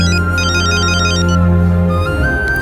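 A phone rings loudly and steadily in a Telugu film scene, playing as a sustained electronic ringtone melody with no voices over it.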